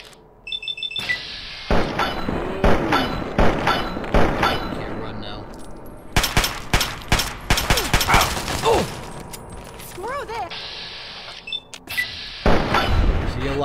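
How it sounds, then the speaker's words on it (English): Assault rifle gunfire in Fallout 3, with scattered bursts of shots and impacts, metallic clinks and rumbling booms amid game sounds, mostly loud and close, with a few quieter gaps. "Not fair, he's got an assault rifle"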